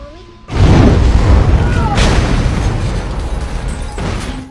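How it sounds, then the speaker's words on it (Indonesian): A car explodes in a film scene with a sudden loud boom, followed by a sustained roar and rumble, and a second burst near the end. "tidak lama setelah itu terjadilah ledakan."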